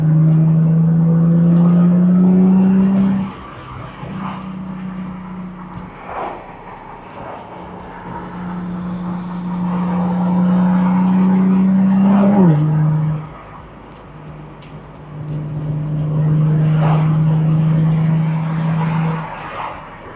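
A supercharged Audi S4 accelerates hard in a race against a Honda Civic, its engine droning loudly through long pulls with rising pitch, broken by brief shift gaps and a sharp sweep near the end, heard from inside the car with no talking.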